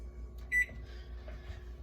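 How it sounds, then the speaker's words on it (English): A microwave oven heating a sealed bag of popcorn hums steadily and quietly, with a short electronic beep near the start and no popping yet. "And I will put it in my microwave."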